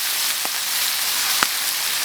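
Pickled cabbage (suancai) sizzles and fries in a hot wok with chicken offal and chilies, a steady loud hiss punctuated by two brief stirring knocks.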